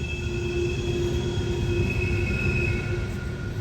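An empty Norfolk Southern coal train runs on the rails through the Pennsylvania mountains near Horseshoe Curve, a loud, steady rolling rumble with thin sustained wheel squeal tones over it and no voices.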